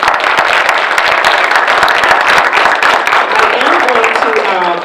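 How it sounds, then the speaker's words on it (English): Audience applause welcoming panelists at an evening talk event, a dense, loud wash of clapping, with cheering voices rising near the end. "Let's give them a big round of applause."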